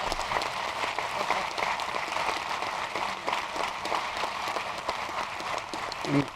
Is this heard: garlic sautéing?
no